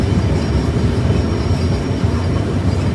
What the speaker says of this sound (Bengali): তবে কেন জানি এখান থেকে আমাদের ট্রেন বেশ স্লো স্পিডে যাইতেছে।